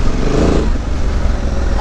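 A Honda Transalp 750 motorcycle rides off road, its engine a loud, steady rumbling drone close by with no pauses.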